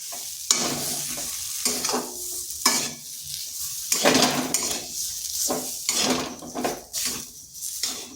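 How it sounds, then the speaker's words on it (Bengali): A spatula stirs fried potato with chopped coriander in a pan, giving repeated close scraping and clinking strokes in an irregular rhythm over a soft, steady sizzle, with no talking. "ধনেপাতাটা দেওয়ার পর আর কিন্তু ভাজবো না, একটু নেড়ে চেড়ে নামিয়ে নেব।"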